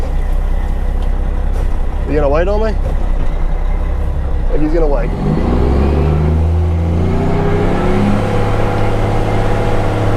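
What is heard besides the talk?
truck passing on the highway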